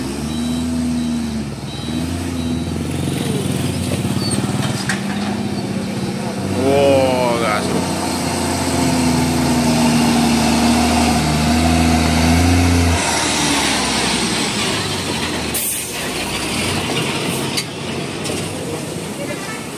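A Hino truck engine revs hard and drones loudly close by, its pitch rising and falling in surges, with excited voices talking and shouting over it.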